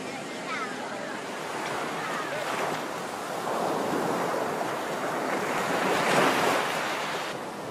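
Ocean waves roll onto the beach at Banda Aceh, Indonesia, a continuous surf wash swelling in two broad surges, with wind buffeting the microphone and a voice speaking over it.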